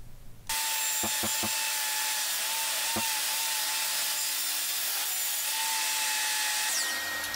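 Power sanding of a teak wood tabletop that starts abruptly and holds a steady, loud whirring hiss with a faint tonal hum. A few sharp knocks come early as the sander shifts across the surface.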